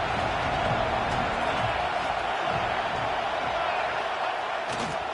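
Stadium crowd in a college football video game, SMU against Nebraska, a steady loud roar of cheering that holds at one level throughout with no clear breaks.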